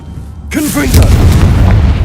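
A Confringo blasting spell goes off in Hogwarts Legacy with a sudden loud boom that rolls into a sustained rumbling burst, after a brief quiet lead-in and a short tonal game cue.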